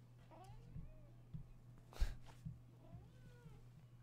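A cat meows several times in short, upward-gliding calls over a steady low background hum, with a louder bump near the middle.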